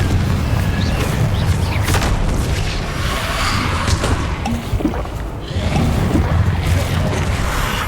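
Booming Confringo fire-spell explosions in the video game Hogwarts Legacy, several heavy blasts with whooshing bursts layered over dense, continuous battle noise.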